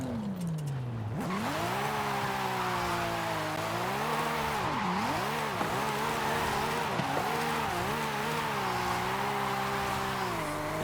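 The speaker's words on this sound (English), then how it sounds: "and you drift" Video game car in Forza Horizon 5 drifting, engine revving loud and continuous with sweeping pitch changes as throttle varies, tires squealing steadily through the slide.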